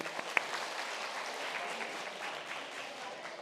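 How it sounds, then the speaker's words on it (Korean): An audience claps together for their conversation partners at a networking training session, a soft, steady patter of hands that stays fairly quiet throughout. "대화 잘해주신 상대방에게 같이 박수 쳐주세요."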